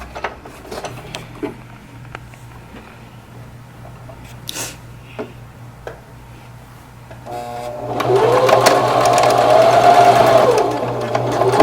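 A sewing machine stitches a lace wig, starting after scattered handling clicks and a low hum, then running in a loud, fast continuous whir with rising and falling motor pitch for the last few seconds.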